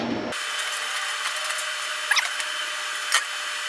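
A power tool trims a Firebird's inner fenderwell, a steady high-pitched whine that runs continuously with a couple of brief rattling bumps.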